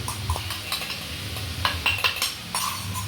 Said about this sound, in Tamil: போட்டுட்டு நல்லா வதக்கிக்கலாம். அந்த பச்சை வாசனை போகிறதுக்கு நல்லா வதக்கணும்.